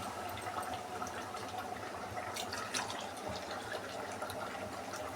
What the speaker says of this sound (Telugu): దీంతో 6 గ్లాసులు బియ్యం పోసిన కదా, 9 నీళ్ళు పోయాలి.